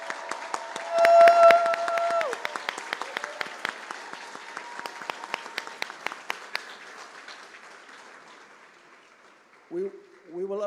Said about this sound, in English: giving the President, in addition to Palisa's welcome, a proper cheer